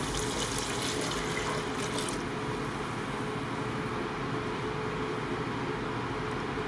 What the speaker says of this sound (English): Now we're ready to add the broth.